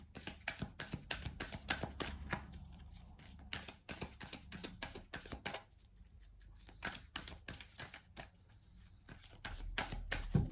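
Oracle cards being shuffled by hand, a quiet, continuous rapid riffling and flicking of card stock close up with short pauses, no talking.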